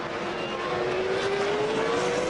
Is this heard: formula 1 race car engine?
yes